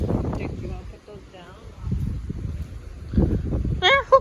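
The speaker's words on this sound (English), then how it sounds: "we have like 50-mile wind gusts" Strong outdoor wind gusts of around 50 mph roar in low, uneven surges beneath people talking, rising and falling with each gust over a few seconds.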